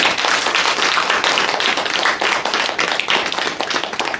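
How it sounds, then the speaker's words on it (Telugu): Audience at a spiritual talk applauding together, a dense, loud, sustained burst of many hands clapping with no voices over it. "ఒకసారి క్లాప్స్ ఇవ్వండి పత్రిజీ."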